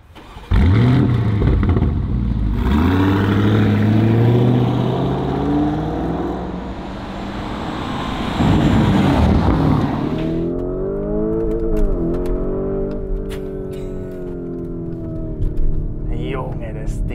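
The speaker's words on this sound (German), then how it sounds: "steigen mal ein, geben mal richtig Gas, testen das Ding mal und schauen mal, was er sonst noch kann." A Lamborghini Urus accelerating hard at full throttle: a loud engine note climbs steeply, drops at gear changes and climbs again through repeated surges across the whole stretch.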